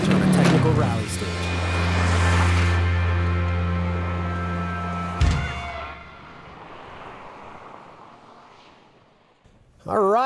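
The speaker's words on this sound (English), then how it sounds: "Kia Sedona minivan, 2005. It's got a big V6, automatic." A 2005 Kia Sedona minivan with a big V6 and automatic gearbox drives on a skid pad and rally course, its engine a loud steady drone that shifts and then fades away.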